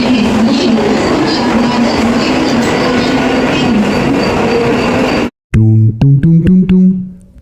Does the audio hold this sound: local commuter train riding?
yes